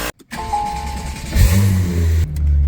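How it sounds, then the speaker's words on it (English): A BMW E30 drives past on a city street, its mid-pitched engine rising and swelling as it nears, then holding a strong revving drone, with no one speaking. "here comes the E30"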